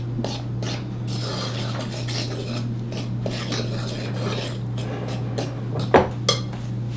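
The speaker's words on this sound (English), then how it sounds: "And take my handy mixing fork. Make sure everything is really well combined." A fork stirs dry Irish soda bread ingredients, including baking soda, in a bowl with continuous close scraping and rasping strokes, and a couple of sharper knocks against the bowl near the end.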